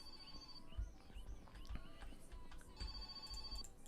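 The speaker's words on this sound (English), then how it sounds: "Right, phone's ringing as well." A telephone rings inside the video game My Summer Car, thin repeated electronic trills at a steady moderate level over low background rumble and scattered game noises, with no talking.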